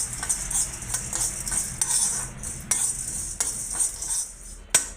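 Sesame seeds roast in a pan while a metal spoon scrapes and taps against it, producing a soft continuous sizzle broken by several sharp clinks, with no talking.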